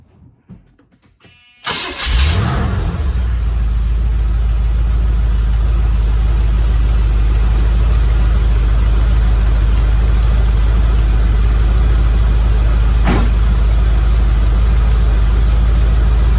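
A 1976 Corvette engine cranks briefly and fires up after an oil change, then settles into a loud, steady, deep idle that rumbles close by for the rest of the stretch.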